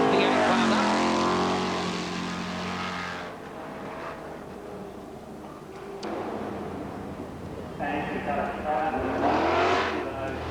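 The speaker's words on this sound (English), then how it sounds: "getting that big talking 308 Holden V8 wound up" A Holden 308 V8 rally car at a 1985 forest rallysprint revs hard, its engine climbing and falling in pitch as it passes, loud then easing before surging again, with commentary talking over it.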